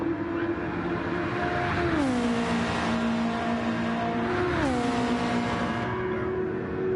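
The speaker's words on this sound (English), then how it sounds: "Oh, these engine noises are pretty loud" Race car engines from a racing video game at a Croatian Grand Prix, a loud steady drone that rises and drops through gear shifts twice, with continuous high-pitched whine throughout.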